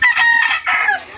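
A rooster in a backyard with chickens gives a single loud, close crow in two quick drawn-out parts, with nothing else audible.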